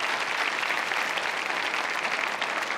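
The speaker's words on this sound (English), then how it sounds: "You can clap for them." A comedy club audience breaks into steady applause, dense clapping filling the room at an even level with no one speaking over it.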